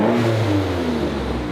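A car engine, freshly restored and heavily modified, revs loudly up close in one sustained rising roar with no talking.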